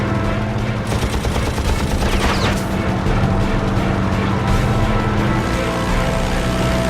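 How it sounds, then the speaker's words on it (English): Machine-gun fire from a P-51 fighter flown by a Tuskegee Airman attacking a German Focke-Wulf 190, dense rapid bursts over a droning engine, loud and sustained throughout. "McGee opens fire."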